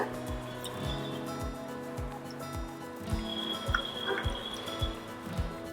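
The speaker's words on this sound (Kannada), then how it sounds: "ಈ ರುಬ್ಬಿರೋ ಅಂಥದ್ದಕ್ಕೆ ಇನ್ನೊಂದು ಸ್ವಲ್ಪ ಈಗ ನೀರನ್ನು ಸೇರಿಸ್ತಾ ಇದನ್ನು ಸೋರಿಸ್ಕೊಳ್ಳೋಣ" Ground hill gooseberry (amla) pulp mixed with water is strained, giving a steady rhythm of close, soft drips and trickles of liquid, with a few small squishy splashes.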